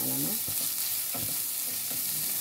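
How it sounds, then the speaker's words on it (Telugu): Carrots sizzle and fry in oil with golden brown onions for semiya upma, a steady loud hiss with a few soft stirring scrapes and no talk. "ఇప్పుడు నేను క్యారెట్ వేస్తున్నాను. క్యారెట్ని కొంచెం మగ్గిస్తాం"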